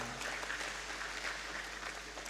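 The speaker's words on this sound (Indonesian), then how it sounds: "Ya, tepuk tangan dong." Faint, steady applause from an audience at a school graduation announcement, soft continuous clapping heard at a distance over a low hum.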